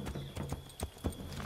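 Horse hooves clip-clop steadily on the ground in Assassin's Creed 3 Remastered, a rhythmic trotting gait with evenly spaced soft thuds over low ambient game sound.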